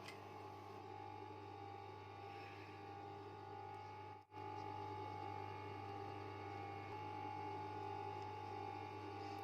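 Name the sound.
sewing machine stitching a sheet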